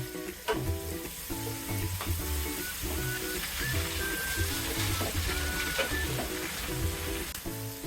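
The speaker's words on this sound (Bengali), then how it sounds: "দুই মিনিটের মতো আমি ভেজে নেব আলুর ফালিগুলোকে" Potato slices sizzle and fry steadily in a hot pan for a Bengali katla fish curry, a continuous crackling hiss with occasional stirring clatter, close and fairly loud with no talking.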